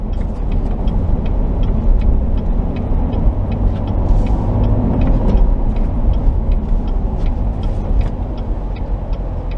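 A 2017 Chevrolet Corvette Grand Sport with a manual gearbox accelerates at low speed in touring mode, its engine a steady, close, continuous drone mixed with road and cabin noise and no talking.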